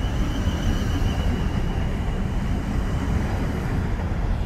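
A Class 450 train at Guildford bound for London Waterloo, a steady broadband rumble of a passing or idling train with a faint whining tone above, continuous and fairly loud.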